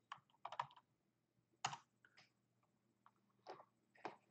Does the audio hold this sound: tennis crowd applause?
no